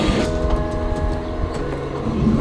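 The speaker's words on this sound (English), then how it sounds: "So we made it on the famous tram here" Rumbling, rattling ride aboard a crowded Lisbon tram, a steady loud interior drone with wheel and track noise and faint tonal squeals, no talk.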